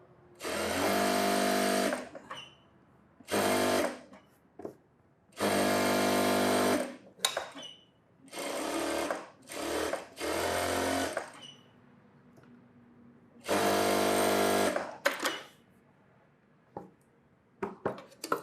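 A sewing machine stitches a blouse border in several loud, buzzing runs of one to two seconds, separated by quiet pauses with faint handling of the fabric.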